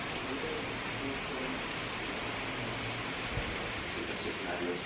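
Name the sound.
rain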